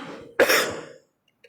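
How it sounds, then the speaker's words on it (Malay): A single sharp cough at night during a religious lecture, close and fairly loud, followed by silence. "Batuk kat malam ni."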